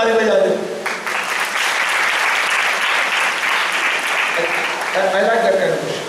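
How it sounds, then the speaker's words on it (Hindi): An audience claps together in a sustained burst of applause that fills most of the stretch, with voices heard briefly at the start and again near the end as it fades. "एक बात ताली बजा दो।"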